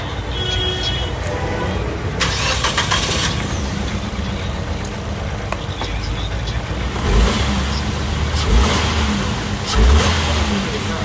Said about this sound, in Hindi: हाँ, गाड़ी मिसिंग है, मिसिंग। क्यों? कॉइल काम नहीं कर रही